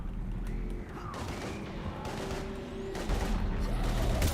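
Heavy gunfire in the game Mass Effect, a sustained rattle of rapid shots and booming impacts that swells louder toward the end, with faint voices beneath.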